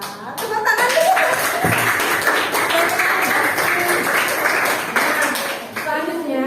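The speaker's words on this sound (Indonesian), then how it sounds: "Tepuk tangan dulu." Classmates in a school classroom burst into a few seconds of dense clapping after a group presentation, with voices talking over and around the applause before it fades.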